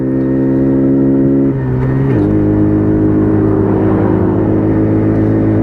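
A WK Colt 50cc motorbike engine drones loudly and steadily while riding, holding high revs with a pitch shift mid-way as the gear or throttle changes, close and continuous with no speech.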